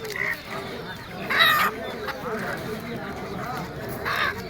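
Chickens cluck and call near the microphone at a busy rural poultry market in Kotiadi, Kishoreganj, where ducks and pigeons are also sold, with people talking and bargaining over them throughout.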